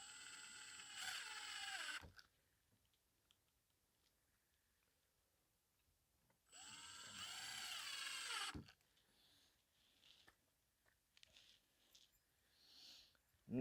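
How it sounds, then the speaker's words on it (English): Power drill driving screws to install a Keystone fence latch, two steady whirring bursts of about two seconds each separated by a quiet pause, followed by faint handling clicks. "I'll go ahead and put in the last 2 screws"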